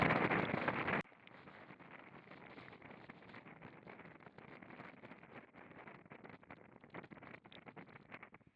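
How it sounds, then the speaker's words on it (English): Steady roaring wind buffeting a sailboat heading into a strong headwind in New Zealand, a loud gust burst at the start giving way to continuous rushing noise. "It's quite a wicked headwind now."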